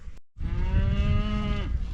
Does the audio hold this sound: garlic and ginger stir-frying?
no